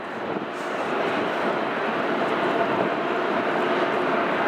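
An Aer Lingus airliner in retro livery passing at Manchester Airport, a loud broadband jet roar that holds steady and builds slightly across the few seconds, with no talking.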